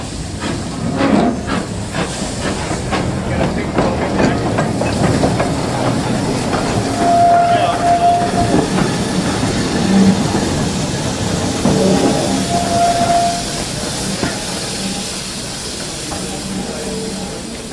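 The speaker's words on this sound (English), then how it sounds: "There's number 828 just running round its train." Steam locomotive number 828 running round its train at the Spa Valley Railway near the old Tunbridge Wells West station, giving a steady loud hiss of steam with rumbling and a few brief whistle-like tones, no talk.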